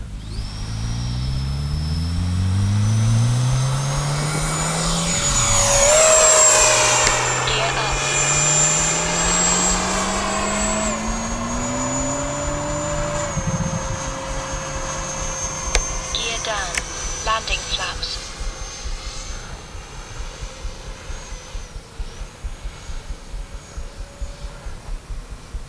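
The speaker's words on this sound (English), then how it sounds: "we're going to take off from right there" Freewing A-6 Intruder RC model jet taking off, its electric ducted fan whine loud and close, rising and sweeping in pitch as the model accelerates and climbs away, continuous throughout.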